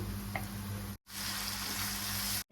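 Onions browned red in a pan sizzle and fry with ginger garlic paste for chicken, a loud steady crackling hiss close by, briefly cut out twice, with no talk.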